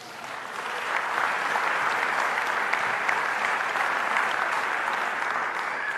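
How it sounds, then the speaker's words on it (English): A crowd applauds steadily for several seconds, a dense, sustained clapping that swells at the start and holds evenly to the end. "So give yourselves a round of applause."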